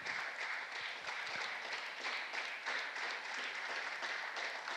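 An audience at a 10m air pistol shooting final in Tallinn applauds, a fairly faint but continuous patter of clapping held at an even level throughout.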